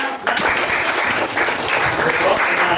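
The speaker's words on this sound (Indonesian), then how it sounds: "kita kasih aplaus dulu" Audience applause during an Indonesian teacher-training class session, a steady broad wash of clapping sustained for nearly three seconds, fairly loud and close, with some voices mixed in underneath.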